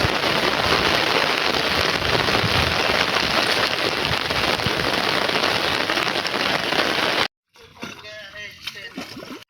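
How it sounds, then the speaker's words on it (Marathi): Heavy rain pours onto a farm field, a dense loud roar of drops lasting several seconds before cutting off abruptly, followed by quieter sounds; a voice speaks during the clip. "मग गाइस जाम पाऊस पडायला"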